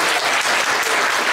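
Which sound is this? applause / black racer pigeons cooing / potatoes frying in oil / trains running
applause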